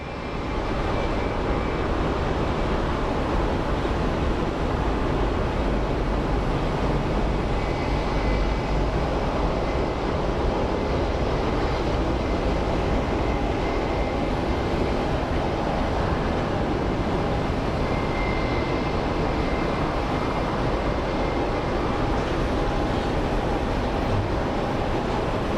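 An American Airlines Boeing 737 taxis after landing at Phoenix Sky Harbor International Airport, giving a steady, continuous engine roar with a broad rumble that holds level throughout, with no talk.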